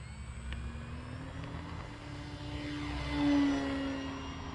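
An FMS Ranger 1800mm RC plane on approach with landing flaps, a steady motor drone and propeller whine rising briefly as it passes closer, then easing off, with no voices.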